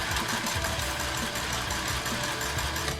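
A sewing machine stitches fabric with a steady, continuous mechanical whir and close, even motor hum, running without pause and with no voices.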